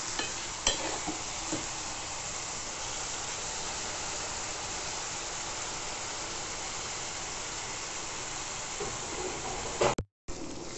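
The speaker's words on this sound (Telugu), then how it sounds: "ఇప్పుడు మూత పెట్టేసి సిమ్లో నిదానంగా వేయించుకుందాం." Tomato curry cooks slowly on low heat under a lid, giving off a soft, continuous sizzle with a couple of faint knocks and a brief dropout near the end, and no one talks.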